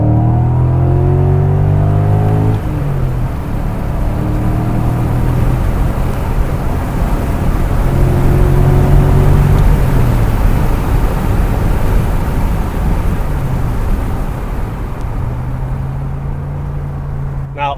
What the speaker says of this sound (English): The 5-litre, 400 horsepower V8 shared with the E39 M5 has power and torque in abundance